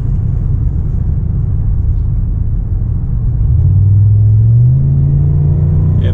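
A 1993 Cadillac Northstar 4.6-litre V8 revving at half throttle, its loud steady rumble rising smoothly in pitch partway through and holding at the higher speed.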